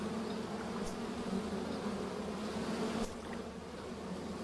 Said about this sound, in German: Bienenstöcker.